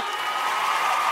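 Crowd applause in a concert hall for a performer, a steady wash of clapping with some cheering, moderately loud and continuous without pause.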